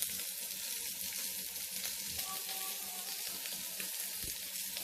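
Al Faham chicken, a gulf-style dish, sizzles steadily on a hot stone while it is pressed down, a continuous close crackling hiss with no voices.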